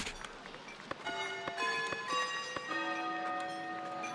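A bell tolls in the medieval village-building game Foundation, with several resonant strikes whose long ringing tones overlap and sustain over a soft game background.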